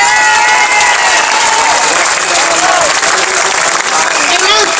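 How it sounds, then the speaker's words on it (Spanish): A crowd claps and cheers loudly and continuously at a pensioners' demonstration in Madrid, a dense, steady roar of applause with voices mixed in. "Y un gran aplauso a los compañeros y compañeras"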